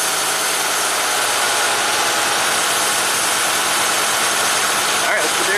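A Cadillac Allante V8 idles steadily up close with the air cleaner off after a throttle angle adjustment, a continuous broadband engine drone with a low rumble and no speech.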